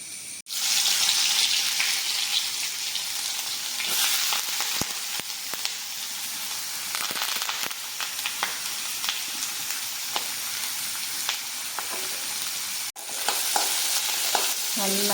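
Crushed ginger and garlic, curry leaves and onion frying for a dried-meat curry, a loud, continuous close-up sizzle with frequent stirring scrapes throughout, briefly cutting out twice.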